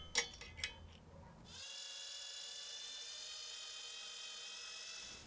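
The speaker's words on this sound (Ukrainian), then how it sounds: "Свердлимо отвір." A drill bores a hole through a brass fishing lure, a steady high whine with strong tonal bands running alone after a few short knocks at the start.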